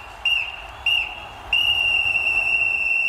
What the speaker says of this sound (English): Do we have a final whistle?